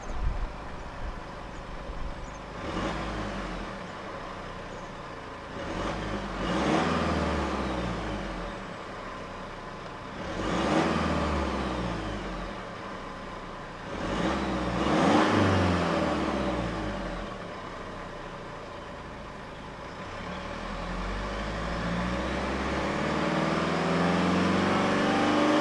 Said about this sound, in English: So let's go ahead and see how she revs.